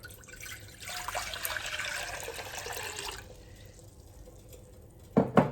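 Water splashes and streams steadily into a pot, four cups for cooking rice, for a few seconds, then fades, followed by a brief clatter near the end.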